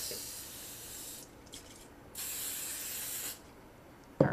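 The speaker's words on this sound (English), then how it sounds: "cooking spray is your friend in this because you really need to make sure that it doesn't stick" Cooking spray hisses onto a baking dish in bursts, a short spritz and then a longer one, close and fairly quiet, ending with a clunk.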